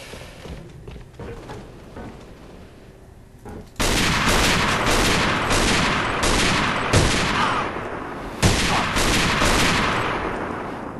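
Sustained gunfire in the shooter game A.V.A., dense rapid bursts of automatic fire starting a few seconds in and continuing loudly to the end, with sharper shot peaks standing out, after a quieter stretch of softer background battle noise.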